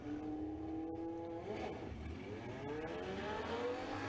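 A Kawasaki and a Triumph motorcycle race side by side down a drag strip, engines rising in pitch and then easing off the throttle, heard faint and distant.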